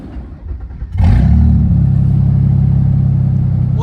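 A race car engine, one of two cars run at Granite City Speedway, cranks and catches after about a second, then settles into a loud, steady, rumbling idle close by.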